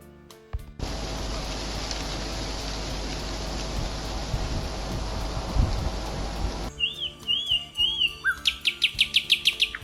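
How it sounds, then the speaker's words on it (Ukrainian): A long wash of steady noise gives way to small birds chirping nearby in a forest, first a few separate calls, then quick repeated tweets in a rhythmic burst. "цвірінькання пташок"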